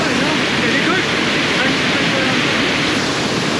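Mailung waterfall roars from its top, a loud and steady broadband rush of falling water that fills the whole stretch without pause.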